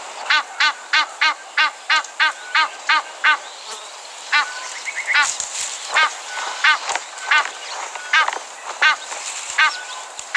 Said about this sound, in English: these old nests are most often taken over by Egyptian geese